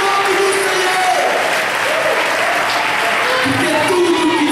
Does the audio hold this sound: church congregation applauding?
yes